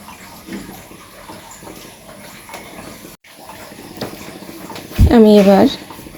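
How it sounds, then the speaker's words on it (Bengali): Water is poured into a pot of chicken and jackfruit seed curry as it cooks, giving a gentle splashing gush under a low hiss. A voice speaks near the end. "এখন আমি এর ভিতরে পানি অ্যাড করে দিচ্ছি"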